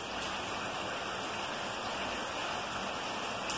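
Steady afternoon rain falls outdoors, a dense, even hiss of drops on surfaces with no pauses, heard without any talking.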